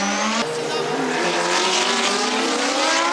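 Formula 1 McLaren Honda cars race at the Paul Ricard circuit, a loud high-revving engine howl that shifts pitch through gear changes as the cars pass close by.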